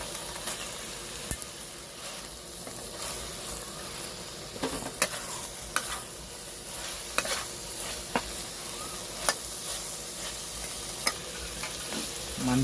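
Pork belly frying with chili paste in a pan at a Thai market, a steady close sizzle broken by occasional sharp clicks and scrapes of stirring, no voices.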